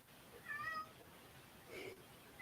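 A faint cat meow sounds at a distance, one short rising cry followed by a softer second call, over a quiet room background.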